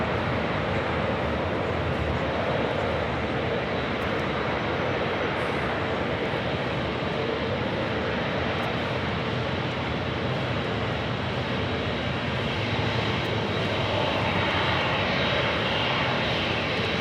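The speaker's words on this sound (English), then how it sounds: "We also have an Aloha Air Cargo 767 going to be taking off." Aloha Air Cargo Boeing 767 jet taking off at LAX, a loud, steady broadband engine roar that holds for the whole stretch with a slight swell near the end, no voices over it.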